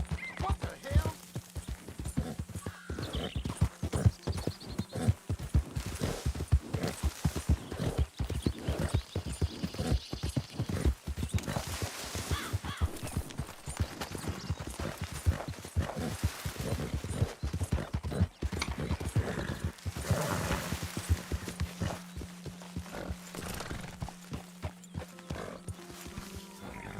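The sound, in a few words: horse hooves and whinnying in video game Red Dead Redemption 2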